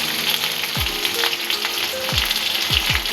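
Curry leaves fry in hot oil for poha, giving a loud, steady close sizzle with a few brief low thumps and clinks.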